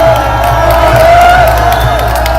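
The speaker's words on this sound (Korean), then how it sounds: "오늘 나경원 동지께서 오셨는데 큰 박수로 환영해 주시기 바랍니다." A large outdoor political rally crowd on Independence Movement Day cheers and applauds a welcome, a loud, dense roar of voices, whoops and clapping sustained throughout.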